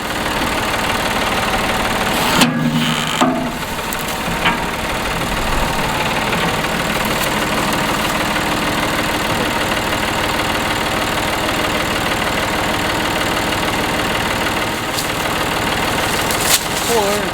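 A tractor engine runs steadily at idle throughout, a continuous mid-pitched rumble with a couple of brief knocks near the start, heard close and loud with no talk.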